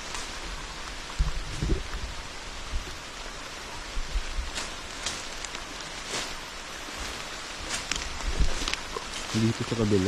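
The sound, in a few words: rain getting heavier on a farm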